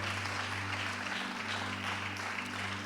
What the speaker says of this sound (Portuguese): Isso merece outro aplauso nesta noite